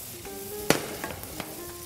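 A Spanish sofrito of fresh vegetables crackles softly in a pan, a faint steady sizzle broken by one sharp pop and a few smaller ticks.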